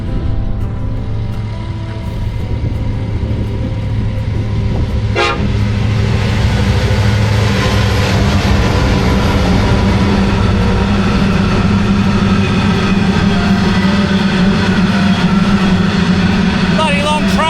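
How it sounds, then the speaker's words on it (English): A long freight train in the Australian outback rumbles steadily past nearby, loud and continuous, with a horn toot early on and clattering wheel noise throughout. "Bloody long train."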